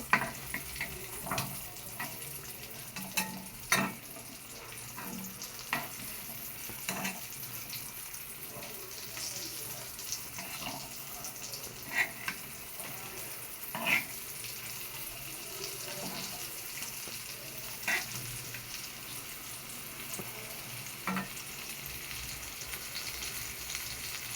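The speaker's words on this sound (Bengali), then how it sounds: "কি সুন্দর ভাজা হয়ে গেছে দেখুন" Eggplant slices frying in oil for crispy fried eggplant, a soft continuous sizzle with scattered pops and crackles throughout, fairly quiet and close, with no speech.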